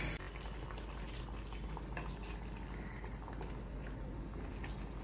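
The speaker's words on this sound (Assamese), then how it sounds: "এয়া মাছখিনি উতলি গ'ল।" Fried fish boils in a pot of dal with a steady bubbling simmer, soft bursts and gurgles continuing throughout at close range.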